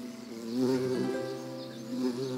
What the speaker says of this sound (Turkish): korkmazsan, kımıldamazsan gider arı